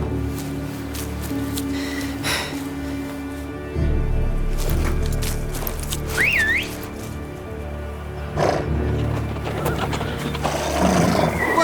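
A horse whinnies once over a steady rumbling backdrop, with hoof-like thuds and a whistling tone in a scene from The Witcher 3: Blood and Wine.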